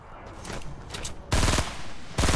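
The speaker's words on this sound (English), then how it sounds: "Why is someone shooting at me?" Rapid automatic gunfire in the video game Fortnite, dense bursts of shots with a softer rattling stretch before two loud, close volleys.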